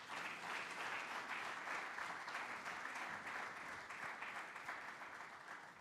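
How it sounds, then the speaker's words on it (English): Sustained audience applause at a stock exchange listing ceremony for MTN Rwandacell, a steady wash of many hands clapping at moderate distance without letup. "Oh, I need to hear more applause for Mitwangambi."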